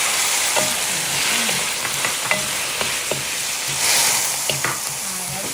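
Garlic sautéing in a pan over medium heat sizzles steadily, with intermittent scraping and stirring clicks from a utensil, close and fairly loud.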